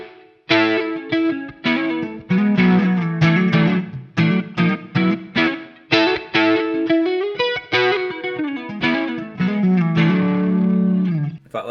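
Electric guitar, an Enya Nova Go Sonic, played in rhythmic chords and picked notes, drenched in reverb with a washy, spacious tail between strums, loud and up close.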